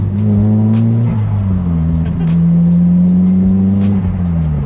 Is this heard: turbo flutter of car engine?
yes